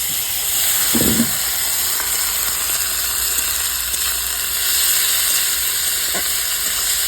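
Ginger-garlic paste hitting hot oil with fried onions and black cumin, giving a steady close sizzle and hiss throughout, with a brief low thump near the start and no talking.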